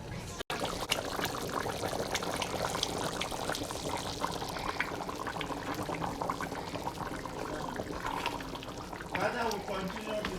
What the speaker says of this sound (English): Let's check the pot. Yeah, so it's boiling right now.